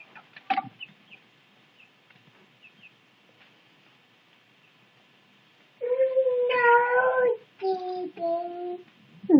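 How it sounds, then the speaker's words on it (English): Young chicks cluck and peep indoors: a sharp call at the start, then near-silence, followed by a louder run of chirping, clucking calls near the end, close and fairly loud. "Silly chickens."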